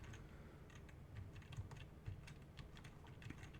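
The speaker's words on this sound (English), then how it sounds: "Sorry if you can hear my keyboard, I just find it easier to move with the keyboard like that." Computer keyboard typing, quiet and irregular, with scattered soft key clicks over a low steady hum and no voices.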